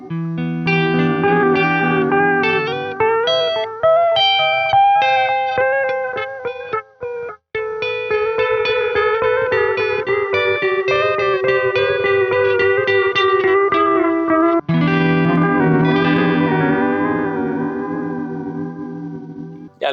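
A guitar runs through a Chase Bliss Thermae pedal set to triangle wave modulation, strummed notes and chords warbling with pitch-shifted delay and reverb, loud and steady for the whole stretch with a few brief breaks.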